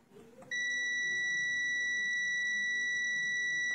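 A digital multimeter in continuity mode sounds a steady high-pitched tone while testing an LED bulb's circuit board, the beep starting abruptly after a brief soft click and holding constant and loud to the end.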